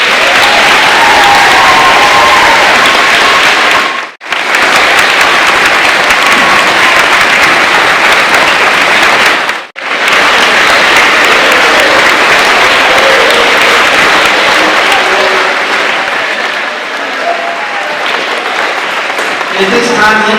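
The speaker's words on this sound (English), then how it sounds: "So let's give another round of applause to our veterans." Loud, continuous applause from an audience at a school Veterans Day assembly, twice cut briefly to silence, then continuing and softening slightly toward the end.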